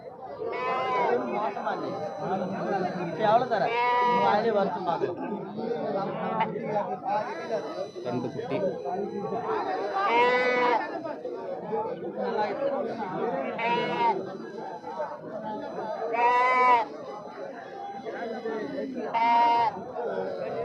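Young goats bleat repeatedly at a Tamil livestock market where kids are sold cheaply, their wavering cries rising every couple of seconds over a steady murmur of crowd chatter.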